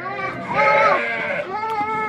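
Sheep on a Turkish farm bleat in long, wavering calls, one after another, close by, with faint voices in the background.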